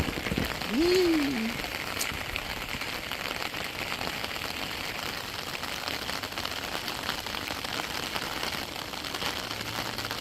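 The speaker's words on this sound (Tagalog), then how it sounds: "Lakas ng ulan guys." Steady, dense rain pours down evenly throughout, a constant hiss with a brief higher tone near the start.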